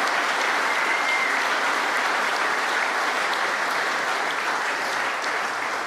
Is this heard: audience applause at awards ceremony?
yes